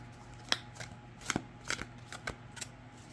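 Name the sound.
overhand shuffling of a tarot card deck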